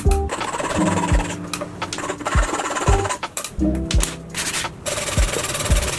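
Rough, rhythmic rubbing and scraping as a sawn-off round wooden dowel is sanded by hand, strokes repeating steadily at close range over a buzzing background hum.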